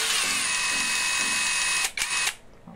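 INGCO cordless drill whirring at steady speed with a high motor whine and short speed dips, then stopping abruptly near the end, close and fairly loud.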